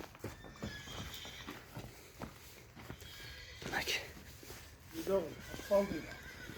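A tired foal that has just walked a long road neighs and whinnies in short bursts near the end, with hooves clip-clopping and shuffling nearby. Quiet human voices murmur in the background.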